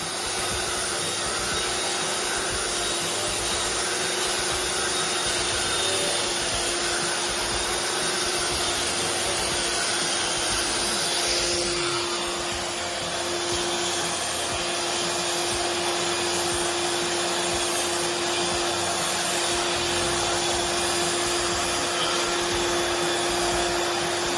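A workshop dust collection system runs steadily throughout, a loud continuous whooshing roar with a constant low hum, unbroken from start to finish and with no talk over it.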